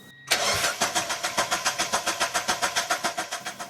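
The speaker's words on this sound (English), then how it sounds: "But now it cranks but doesn't start at all." A Mazda Miata NB starter cranks the engine without it catching, giving a loud, close, rhythmic churning of regular pulses that continues steadily after the initial engagement.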